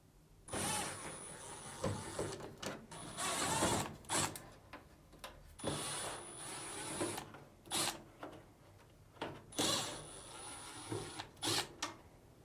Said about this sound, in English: Now, remove these 4 Phillips screws.